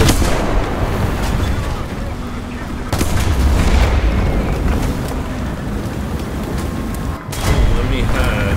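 Tank gunfire in War Thunder from a German Panzer IV Ausf. J medium tank battle: heavy booming shots and impacts thud over a constant rumbling engine, with one big blast near the three-second mark.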